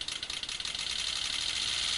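Simulated water fuel injector pulsing as for a car cruising at 60 mph, a rapid buzzing chatter of clicks so fast they nearly blur into a continuous rattling tone, close and steady throughout.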